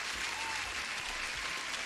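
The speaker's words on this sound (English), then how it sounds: "Huge applause again to Cami Capital here" A burst of crowd applause sound effect plays on a live trading stream, steady dense clapping throughout at even volume with no speech over it.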